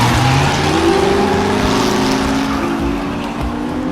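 Race car engine roaring loud and steady at high revs during a rainy endurance race against Ferraris, with a sustained drone and slight pitch shifts throughout and no pauses.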